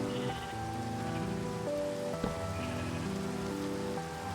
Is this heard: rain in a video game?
yes